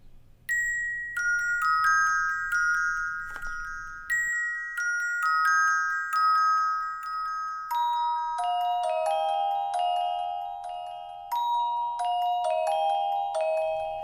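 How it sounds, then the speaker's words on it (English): A sequence of bright, chiming music-box bell tones plays a gentle melody, each note ringing with a soft decay, alone and fairly loud. "And this is music box preset."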